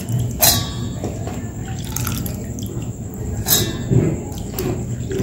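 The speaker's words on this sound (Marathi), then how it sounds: "याच्यात मी सगळी डाळ टाकून देते।" Soaked lentils and rice slide wetly into a mixer jar in a couple of quick, splashy bursts over a low, close background.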